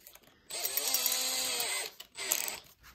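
A handheld drill with a 13 mm bit bores into soft wood, giving a steady, close whine for over a second, then a short second burst after a brief pause.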